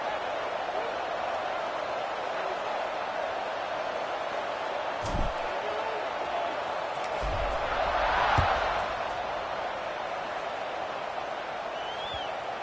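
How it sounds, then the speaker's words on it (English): Crowd buzz in a College Football 26 video game on PS5: a steady, dense stadium roar fills the scene, swelling briefly near the end, with a few dull thumps underneath. "this crowd is buzzing after that last score"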